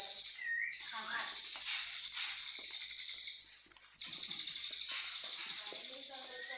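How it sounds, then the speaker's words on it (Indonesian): Oriental magpie-robin chicks kept under a warming lamp give a dense, rapid, high-pitched chirping that carries on without a break, close and fairly loud. "Ini anakan burung murai."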